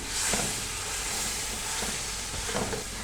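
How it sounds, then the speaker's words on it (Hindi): Spices, including crushed red chili and salt, fry in a pan while arvi masala is being cooked, giving a loud, continuous close sizzle with a few soft stirring strokes. "स्पाइसेस को हमने अच्छे से भून लेना है।"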